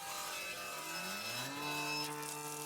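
Saw cutting through wooden boards, a faint, continuous grinding drone with a rising, shifting whine as the blade works through the cut.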